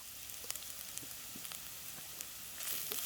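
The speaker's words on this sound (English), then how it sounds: "At this point, I'm going to add in the grated carrot." Grated carrot hits melted ghee in a pot and sizzles steadily, a soft, close crackling hiss with scattered sharp pops and a slight swell near the end, with no voices.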